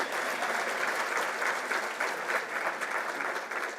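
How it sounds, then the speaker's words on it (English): An audience at the 2024 STEMmy Awards ceremony applauds an honoree with continuous, even clapping that stays at a moderate level throughout, with no voices over it. "you can give a round of applause for that too"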